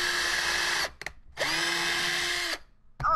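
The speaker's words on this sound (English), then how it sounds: "I'm gonna punch that drill in the face!" A power drill whirs loudly in two sustained bursts of about a second each, separated by a brief stop, followed by a short squeaky sound at the end.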